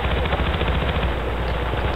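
Rapid, continuous machine-gun fire in Battlefield: Bad Company 2, loud and close, rattling without pause for the whole two seconds.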